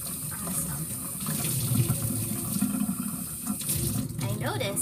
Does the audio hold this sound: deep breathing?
no